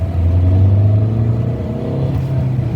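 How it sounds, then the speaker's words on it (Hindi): Close rumble of a Volkswagen car engine pulling hard under acceleration, a steady low drone that shifts pitch partway through as the revs climb. "भाई, बहुत सही पिकअप है गाड़ी की।"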